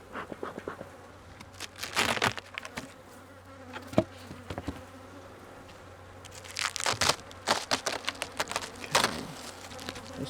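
Honeybees buzz close by around an opened hive during a California beekeeping season, with bursts of intense, fluttering wingbeats and crinkling handling noises that rise and fall over ten seconds.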